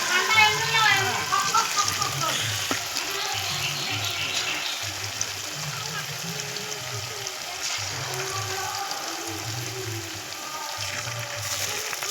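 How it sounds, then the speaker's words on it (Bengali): Small vegetable pakoras deep frying in hot oil, giving a steady bubbling sizzle that runs throughout at close range, with a low rhythmic hum beneath and no talk. "এই যে আমরা ভেজ পকোড়াগুলো ভেজে নিচ্ছি ছোট ছোট করে।"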